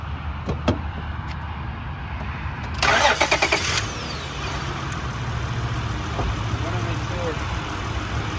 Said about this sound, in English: The engine sounds nice and quiet.